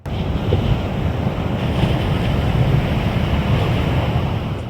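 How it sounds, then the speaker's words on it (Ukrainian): Small, almost calm Atlantic waves break on a sandy beach by dunes at Villa Gesell, Argentina, making a loud, steady roar and wash with strong wind buffeting the microphone throughout. "Міць і сила океану відчувається навіть у таких невеличких, майже штильних хвильках."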